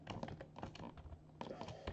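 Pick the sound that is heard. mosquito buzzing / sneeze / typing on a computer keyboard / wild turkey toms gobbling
typing on a computer keyboard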